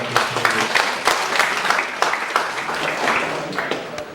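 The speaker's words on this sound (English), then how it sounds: "Please give a big round of applause" Applause from an audience in a college auditorium gives a dense, continuous patter of many clapping hands, steady and moderately loud for several seconds.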